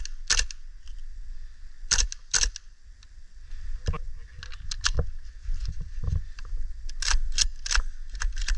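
An EMG/CYMA MK18 airsoft gas blowback rifle worked with an empty magazine, giving sharp metallic clacks and rattles at irregular intervals, close and fairly loud.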